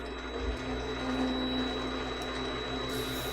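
Small lathe spinning at low speed while a lightsaber hilt is sanded, a steady droning hum with a constant whine and faint scraping texture running throughout, close and moderately loud.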